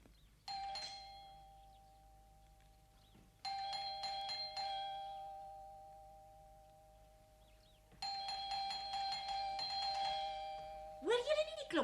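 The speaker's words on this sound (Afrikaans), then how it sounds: "Hoor julle nie die klokkie nie?" An electronic doorbell chimes three times, each ring sustained and separated by quiet pauses, followed by a brief whooping sound at the end.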